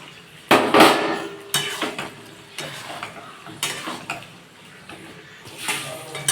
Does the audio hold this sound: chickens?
no